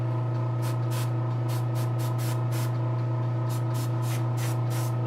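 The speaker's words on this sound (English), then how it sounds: "Like I said, I just spray heavy" Spray painting a Giganta figure with heavy coats: a series of short, close hissing bursts over a steady low hum, some bursts quick and clustered, others longer.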